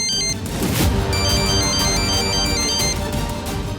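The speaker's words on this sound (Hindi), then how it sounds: "अरे फिर से फोन आ गया।" A mobile phone ringtone plays loud and close for nearly four seconds: a bright, repeating electronic melody of sustained tones in a domestic drama scene, with no talking over it.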